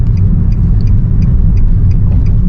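Steady road and engine rumble fills the cabin of a 2013 Nissan Evalia automatic on the move, loud and continuous with faint high ticks recurring through it.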